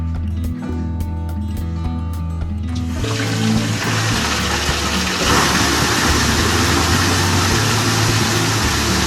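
Tap water gushes into a container, starting after a few seconds of low engine-like rumble and then pouring loudly and steadily at close range.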